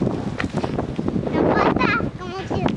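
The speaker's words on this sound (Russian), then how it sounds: "Ой, ветер такой сильный." Gusty wind buffets the microphone in a steady roar while a child and an adult talk over it.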